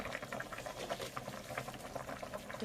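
Catla fish curry bubbling steadily in a pan, a dense, continuous simmer with small popping bubbles throughout, close and even, no talking.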